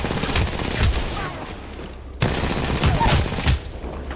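Rapid bursts of RE-45 pistol fire in a frantic Apex Legends fight rattle over busy game sounds, with a short lull before the shooting resumes.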